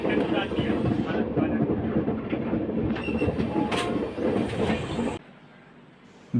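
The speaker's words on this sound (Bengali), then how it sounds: "তিতলাগড় জংশন থেকে ট্রেন ছেড়ে দিল" The Samaleswari Express pulls out of Titlagarh Junction, a steady loud rumble with clattering wheels and brief squeals, running continuously before dropping to a quieter hum near the end.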